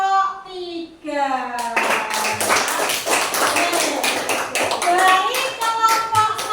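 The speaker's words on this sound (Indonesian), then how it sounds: "Tepuk tangan untuk kita semuanya." Children in an Indonesian classroom burst into sustained group clapping after a teacher's brief spoken lead-in, dense and fairly loud, with voices rising over the applause near the end.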